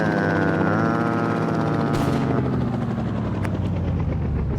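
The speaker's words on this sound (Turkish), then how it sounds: "Şu helikopteri kaldırabilirsem önce" A helicopter in a battle royale style video game spins up loudly and steadily, its rotor whine and thumping drone rising and shifting in pitch as it lifts off.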